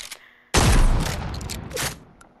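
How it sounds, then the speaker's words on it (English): A ranger shotgun in a video game fires one sudden, loud, booming blast that rings out for a second or two, followed by a shorter burst of mechanical clatter as it tails off. "A ranger shotgun."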